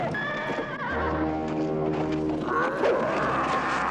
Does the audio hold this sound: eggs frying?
no